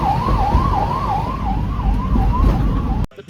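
Ambulance siren wailing in a steady up-and-down sweep, loud and close, running continuously for about three seconds before cutting off abruptly.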